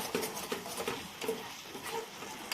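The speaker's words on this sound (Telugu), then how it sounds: "చక్కెర పాకం మొత్తం కరిగిపోయే వరకు ఇట్లా కలుపుతూనే ఉండాలి" A spoon stirs melting jaggery sugar syrup in a pan, giving soft repeated scrapes and light taps at an uneven pace against a quiet background.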